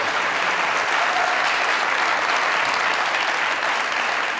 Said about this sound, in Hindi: तालियां है इस सवाल पे यार